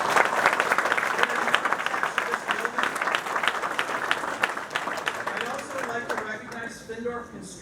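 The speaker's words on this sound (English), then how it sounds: "Please give them a round of applause" Audience applause at a high school ribbon cutting ceremony, steady dense clapping from a large crowd that carries on loudly and then thins out near the end.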